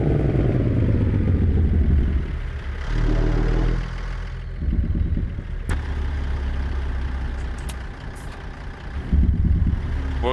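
A truck engine in the video game American Truck Simulator rumbles at idle with a deep steady drone, rising and falling in revs, plus a few sharp clicks and clatters.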